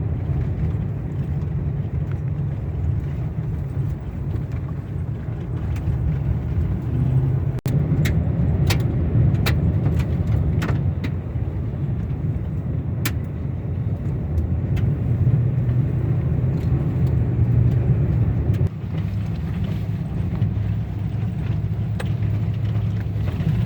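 A car drives along a rough, dusty dirt road off the main road in the Nebraska badlands in October, making a steady low rumble with scattered clatters and knocks from the uneven surface and no talking.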